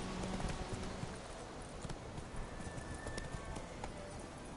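Roach the horse gallops in The Witcher 3 with a quick, steady clip-clop of hooves, moderately quiet and continuous throughout.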